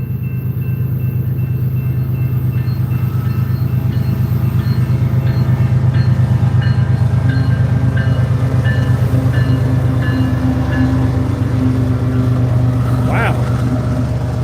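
A Ferromex freight train hauled by several diesel locomotives, including ACe units and a GE Evolution unit, rolls past on the Transcon with a loud, close, steady engine drone and rumble that swells slightly mid-pass.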